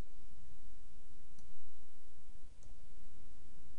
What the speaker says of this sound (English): If you hover your mouse over the link and right-click